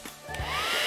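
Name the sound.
hairdryer blowing air at a paper aerofoil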